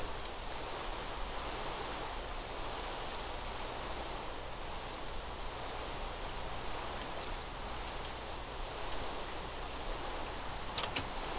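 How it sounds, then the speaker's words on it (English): Steady, dense hiss of pouring rain in Minecraft, an even wash of noise that holds at the same level throughout with no voices over it. "It is pouring rain again."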